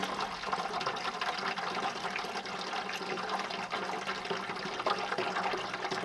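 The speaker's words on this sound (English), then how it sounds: "Pump this water inside." Water being pumped into containers at a snowbound off-grid cabin: a steady, close rushing gush of running water filling vessels, continuous and fairly loud throughout, with no talking.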